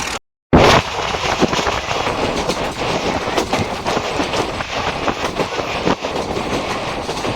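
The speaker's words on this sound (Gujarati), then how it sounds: "જેસલવરમાં ટ્રેન એન્ટર થઈ ગઈ છે" A meter gauge passenger train running from Chalala to Junagadh rumbles steadily with rhythmic clickety-clack of wheels on rail joints, loud and close, after a brief dropout at the very start.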